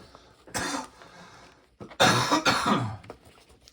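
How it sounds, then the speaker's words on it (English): Two harsh coughs from a person with a cold, the first short and the second a louder, longer fit with a throat-clearing rasp, close to the mic with no talking. "pardon the cough"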